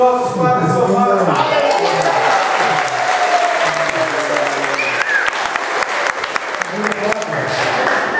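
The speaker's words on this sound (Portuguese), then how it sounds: "Uma salva de palmas dos nossos padres somados." A round of applause for priests at a church gathering, loud sustained clapping from a crowd with some cheering, opening over a voice and then continuing alone.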